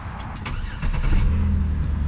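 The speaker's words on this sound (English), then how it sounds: "we're gonna start the car and make sure this thing is moving now." A Chevrolet Impala's engine cranks briefly and catches, settling into a steady idle rumble close by, with no talk.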